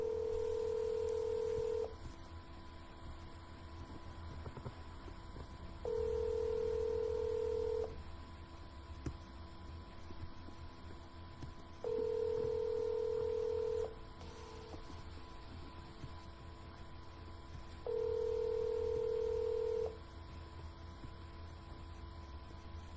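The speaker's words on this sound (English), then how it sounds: "So right now I have the 3-line dialer on." Automatic three-line phone dialer for cold calls, repeating a steady ringback-style tone in evenly spaced two-second bursts with gaps of low line noise between, moderately loud and with no speech.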